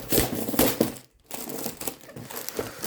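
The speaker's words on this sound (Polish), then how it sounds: "Co to jest za folia w ogóle? świąteczna." Christmas gift foil crinkles and crackles close up in bursts of sharp rustling, a brief pause in the middle, then more handling and crumpling.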